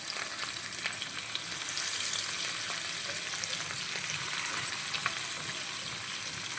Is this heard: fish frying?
yes